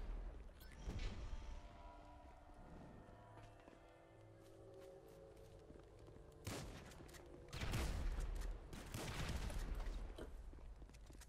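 Gunfire in the video game GTA V sounds in bursts of rapid shots, with the densest volleys in the second half. It stays faint overall and sits among other game noises.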